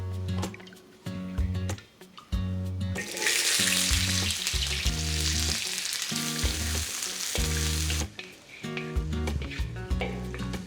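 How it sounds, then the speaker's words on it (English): A large diced onion fries in a pan toward caramelized, with loud, steady sizzling, a bright hiss that swells in the middle, and rhythmic background music throughout. "We need a large diced onion to fry until the color changes to caramelized color"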